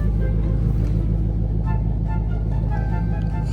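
A car engine idles steadily after being started, a low, even rumble filling the inside of the cabin, close and continuous with no talking.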